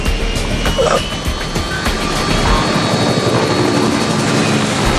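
A helicopter flies close by with a loud, continuous rotor and engine roar, its blades chopping in a steady rapid rhythm throughout.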